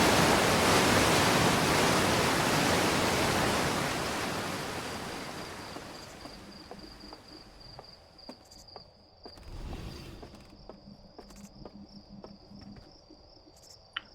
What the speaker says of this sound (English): And waterfalls are quite loud.